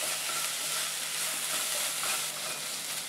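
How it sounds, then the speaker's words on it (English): Onions, ginger, garlic and green chilies sauté in a pan for a paneer bhurji, giving a steady, bright frying sizzle and soft hiss that stays even and close with no talking over it. "Our onions, ginger, garlic and green chilies are sauteing well."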